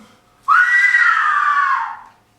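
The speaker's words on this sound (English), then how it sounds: "What is that noise? It's the cry of women" Women crying out as a sound effect in an audio drama of Shakespeare's Macbeth, a single sustained high wailing cry that swells quickly and fades after about a second and a half, heard alone in a quiet background.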